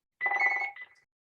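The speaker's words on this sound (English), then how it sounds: "Always handy when the phone rings." A home landline telephone gives one short electronic ring burst, loud and close, then goes quiet.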